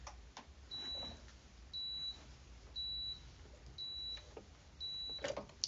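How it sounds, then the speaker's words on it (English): An electric iron at a sewing setup beeps five times in a slow, evenly spaced series of short electronic tones, moderately close over a quiet room. "I swear my iron was not beeping at me anywhere near as much yesterday"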